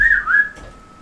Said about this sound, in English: I heard you whistle out